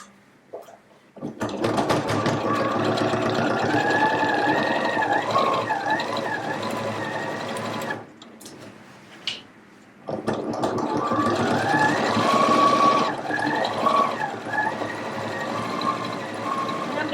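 A sewing machine runs steadily while stitching around a jacket pocket, a loud continuous whirring buzz that pauses briefly partway through, then resumes for a second long run.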